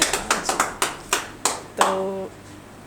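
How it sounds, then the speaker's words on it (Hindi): Audience clapping at an open-mic poetry reading, a short burst of loud, sharp claps spread across the moment, then a brief ringing tone as it fades. "जोरदार तालियां।"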